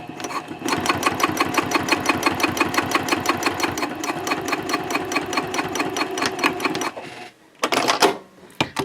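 A sewing machine stitches a card slot onto a Cordura fabric trifold wallet, running in a fast, steady rapid-fire clatter up close for about seven seconds, then pausing and giving two short bursts.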